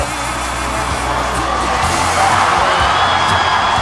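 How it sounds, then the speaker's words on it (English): Huge election-night crowd at Grant Park in Chicago roars and cheers continuously, a dense wash of shouting and whooping that swells slightly louder toward the end. "Listen to the crowd at Grant Park in Chicago."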